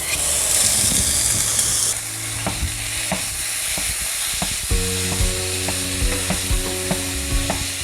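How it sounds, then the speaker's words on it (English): Sizzling from a pound of lean ground beef in a skillet heated to medium-high, a steady dense crackle and hiss close up with occasional clinks of a utensil stirring through it. "I've got this skillet heated to medium-high heat. I'm gonna add in a pound of ground beef."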